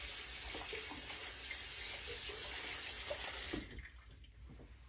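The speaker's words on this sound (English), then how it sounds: "I'm going to rinse that off and get those strings off of there" Tap water runs steadily into a kitchen sink while a sweet potato is rinsed under it, a close, continuous hiss that cuts off abruptly near the end, leaving quieter room sound.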